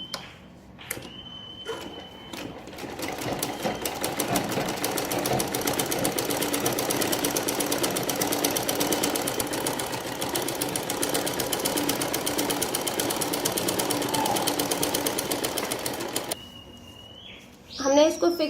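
Sewing machine stitching salwar fabric, a fast steady mechanical whirr running for about fourteen seconds between brief pauses, close and fairly loud, with a few light clicks around it.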